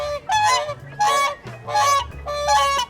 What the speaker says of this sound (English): these guys, living up to their name, are trumpeter swans